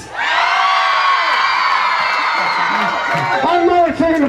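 A homecoming crowd cheers and whoops loudly, a sustained wall of shouting voices with one voice rising and falling over the top, while someone speaks near the end.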